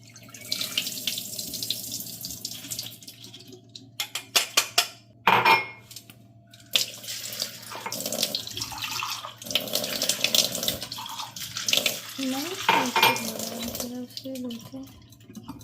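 Running tap water pours steadily into a container in a kitchen sink as food is washed and set to soak, with clinks of dishes and utensils, and someone talks now and then over the flow.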